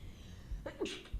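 A single quick sneeze close to a microphone, faint and short, with a soft breathy intake before it.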